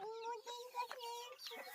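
Desi village chickens cluck close by in short, tonal, overlapping calls, several birds chattering one after another in a quiet farmyard.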